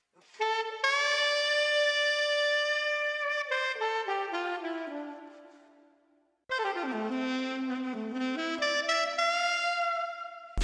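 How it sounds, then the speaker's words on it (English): A chopped saxophone lead sample plays as sustained, bright melodic phrases in two long sections with a brief gap between them, loud and alone with no voices. "which is all kind of based around this saxophone lead"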